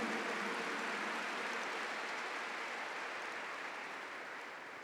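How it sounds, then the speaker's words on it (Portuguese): A church congregation at Mass breaks into a steady wash of applause, heard faintly from a distance and tapering slightly over its length. "Vamos aplaudir Nossa Senhora e a pedagogia divina."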